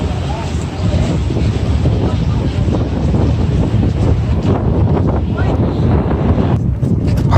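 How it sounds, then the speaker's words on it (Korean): Strong rainy-season wind at the Boracay boat port buffets the microphone in a loud, continuous roar, with a boat's rumble mixed underneath. "바람이 이때 우기라 강풍이 상당히 바람도 많이 불고"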